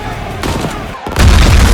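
Loud, chaotic gunfire erupts as armed civilians riot around a plane being refuelled at an airfield in a doomsday disaster film, with dense bursts swelling toward the end over a noisy soundtrack.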